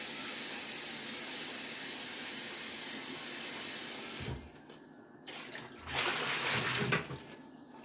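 Cold tap water runs over cooked food in a sink, a steady loud hiss and splash that drops away and then returns in uneven surges toward the end, with no talk.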